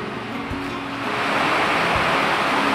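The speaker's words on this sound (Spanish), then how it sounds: "Una cascada de aproximadamente 50 metros" A roaring waterfall about 50 metres high at La Cofradía, Espíndola, Loja, Ecuador, fills the scene with constant broadband rushing water, loud and steady, growing slightly stronger partway through.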